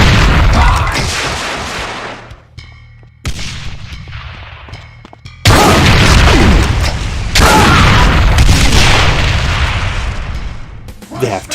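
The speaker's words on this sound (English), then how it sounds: "It can fire rockets and explosive minigun shots." Rockets and explosive minigun fire in a modded DooM game, arriving as heavy booming blasts in several loud bursts, each trailing off before the next hits.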